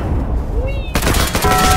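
Gunfire in the sandbox game Garry's Mod: a loud, sudden burst of rapid shots that starts abruptly and carries on to the end, dense and close, following a brief tonal game sound.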